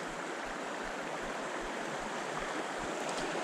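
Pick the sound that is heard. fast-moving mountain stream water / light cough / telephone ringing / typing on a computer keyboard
fast-moving mountain stream water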